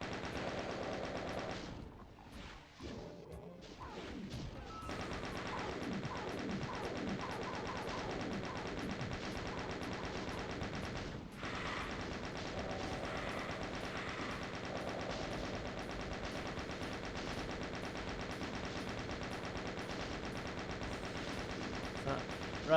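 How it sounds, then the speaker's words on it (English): Rapid chaingun fire from Doom II on PC, played on Ultra Violence, rattling almost nonstop in long bursts mixed with other game noises, with one short break near the start. "there are 2 pain elementals in this next room, which I'm going to try and chain gun into oblivion"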